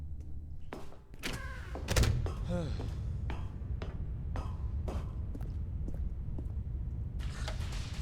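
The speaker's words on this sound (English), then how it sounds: "Stanley walked straight ahead through the large door that read Mind Control Facility" A large door to a mind control facility opens in The Stanley Parable, with a heavy thunk, mechanical creaks and a string of sharp knocks, followed by a sustained low rumble.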